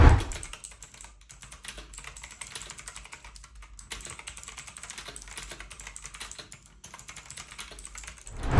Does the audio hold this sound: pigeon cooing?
no